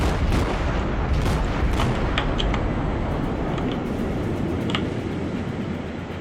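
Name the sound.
warship return fire in World of Warships, a video game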